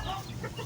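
Healthy farm chickens, fed a powdered supplement mixed into water and feed, give a short burst of close clucking, a couple of quick calls over steady background noise.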